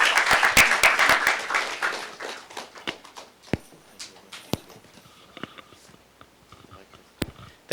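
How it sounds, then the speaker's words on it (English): Audience applause for Boston city councilor Michael Flaherty after his introduction at an event: dense clapping at the start that thins within about three seconds into scattered claps and faint rustling. "Ladies and gentlemen, please give a big round of applause to Mr. Michael Flaherty, Councilor at Large for the City of Boston."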